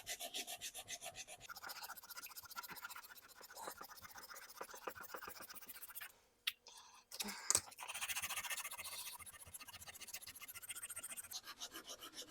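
Close, continuous rhythmic rasping of sandpaper on dented stainless steel trim, briefly pausing midway before resuming with steady back-and-forth strokes.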